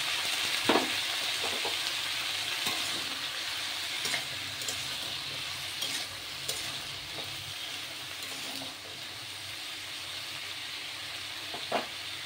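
Spice paste frying with lightly fried ginger in a pan, a continuous loud sizzle and hiss with occasional stirring scrapes and small knocks throughout.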